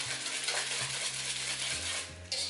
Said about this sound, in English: So if you just put those in and mix it very good, mix it very well.